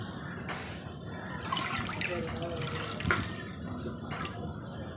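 Water pours from a bowl onto sugar in a pan for syrup, a continuous splashing trickle with a few louder spills and knocks.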